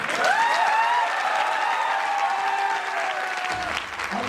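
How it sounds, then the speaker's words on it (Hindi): A network-marketing success-story audience applauds continuously and loudly, the clapping tangled with sustained whistling or squealing tones before thinning slightly near the end. "थोड़ी ताली अच्छी बजा दो।"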